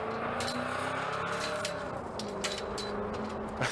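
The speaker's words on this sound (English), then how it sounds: "That car sounds mean." A car engine idles and rumbles steadily nearby, with a deep, continuous tone throughout and no talk, while a family looks over a truck.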